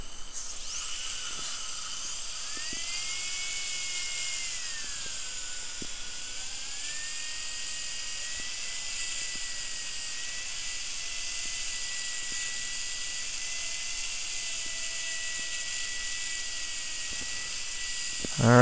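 A dental handpiece polishing an implant crown gives a steady high-pitched whine that holds for the whole stretch, wavering slightly in pitch as pressure shifts, heard alone and close with no talk.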